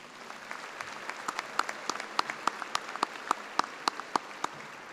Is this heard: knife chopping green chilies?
no